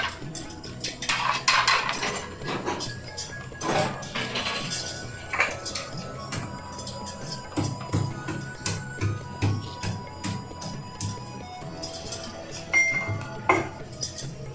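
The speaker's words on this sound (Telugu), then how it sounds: "ఇప్పుడు ఎల్లుల్లిపాయ దంచి వేసేసుకుంటాం అన్నమాట" Garlic cloves pounded in a mortar while cooking a Telangana-style bottle gourd biryani curry, giving repeated hard knocks and clinks in an uneven rhythm, close by, with kitchen clatter around them.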